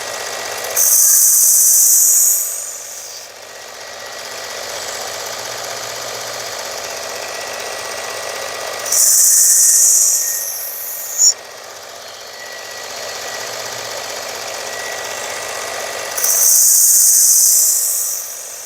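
A Worksharp belt sharpener grinding the edge of a Rosecraft Otter Creek Barlow knife, three loud high whining passes of a few seconds each between a steady motor hum, with one brief knock in between.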